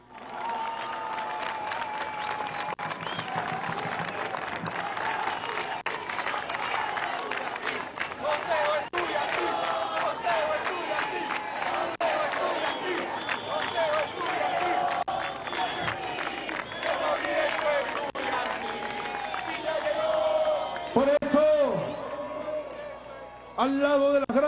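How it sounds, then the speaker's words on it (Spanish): Crowd at a political speech marking the Constitution's anniversary breaks into sustained applause and cheering, a dense, steady roar of clapping and voices that holds throughout, with a few louder shouts near the end. "Un aplauso."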